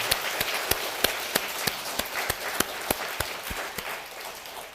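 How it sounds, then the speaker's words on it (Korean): A church congregation at a Thanksgiving Sunday service claps in a steady, regular rhythm of sharp, evenly spaced hand claps over a soft background wash, with no voices. "추수감사주일에 최고의 박수로 하나님께 영광을 돌리기를 주겠습니다"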